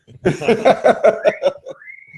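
A person whistles a short, rising-and-falling tune with several distinct notes, loud and close, ending on a long sustained tone with no talking.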